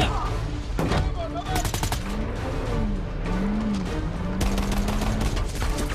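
Dual pistols fire in Saints Row 4 co-op gameplay, with quick volleys of sharp shots over a loud, continuous bed of game action and explosions.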